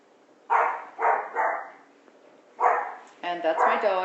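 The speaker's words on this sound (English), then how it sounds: "And that's my dog barking." A dog barks in several short bursts spaced over a few seconds, fairly close and clear, with no talk over it.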